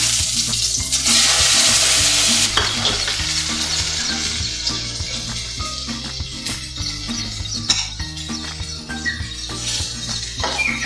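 Onion paste with curry leaves crackles and sizzles loudly in hot oil, a steady busy frying hiss with occasional pops and clinks, no talking.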